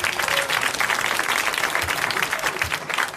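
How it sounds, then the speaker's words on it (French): Studio audience applause on a 1981 French television game show: dense, steady clapping from a large crowd that holds at an even level for the whole stretch. "applaudissez Catherine Meyer d'Herblay."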